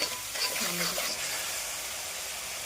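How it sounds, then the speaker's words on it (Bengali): Cinnamon, bay leaf, onion, garlic and slit green chili sautéing together in a pan for a chicken and potato gravy, giving a steady, fairly loud sizzle with faint stirring, while a voice talks quietly underneath. "সবগুলো একসঙ্গে আমি ভালো করে কষিয়ে নেব।"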